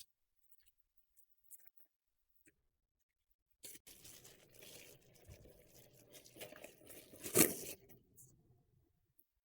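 A plastic bag holding a collapsible square silicone air fryer liner is torn and rustled open, with soft crinkling building to one sharp rip, close and fairly quiet after a near-silent start.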